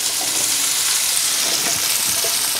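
Parboiled potatoes fry in a very hot pan with rapeseed oil, giving a steady, close, dense sizzle that crackles continuously throughout with no one talking.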